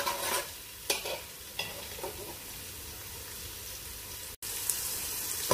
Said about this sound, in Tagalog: I-add ko na po yung onion. Hintayin din po natin yung mag-brown yung onion.